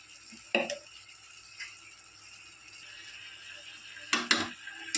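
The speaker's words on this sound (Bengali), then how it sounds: "খুন্তি দিয়ে ভালো করে নেড়ে চেড়ে নেওয়ার পর" Cumin and chilli powder are stirred in a frying pan with a spatula over a faint background sizzle. A few distinct scraping strokes come early, then a louder cluster follows near the end.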